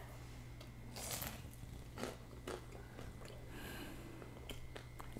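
Several crisp, crunchy bites into a crispy pork and apple turnover, close up, followed by chewing, over a steady low background hum.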